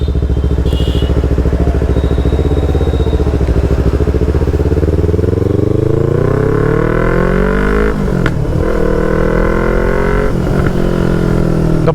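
A Yamaha R3 motorcycle with stage 1 performance mods rides along, its engine droning steadily then revving up through rising pitches and shifting gears, loud and close throughout with wind noise.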